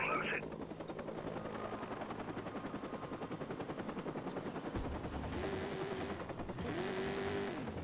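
Steady helicopter rotor drone from the game Watch Dogs, with gunfire-like bursts and engine noise layered over it and some speech mixed in.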